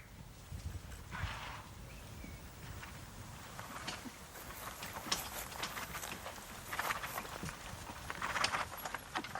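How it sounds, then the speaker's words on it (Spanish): Hooves of Lipizzaner horses clip-clop steadily at a stud farm in Slovenia, a loose rhythmic clatter heard at moderate distance over a constant outdoor background. "es donde nacen los famosos caballos lipizzanos"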